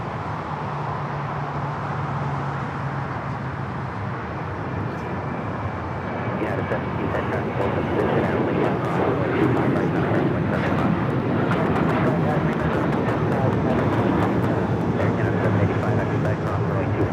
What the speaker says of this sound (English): This is Alaska Airlines 1323 taking off to Cancun on the 737-900ER.